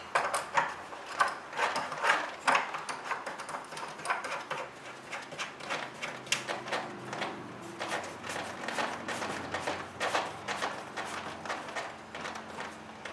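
Plastic compression fittings on aquarium plumbing being hand-tightened, giving a steady run of small scraping and clicking turns that repeat at close range with no talk.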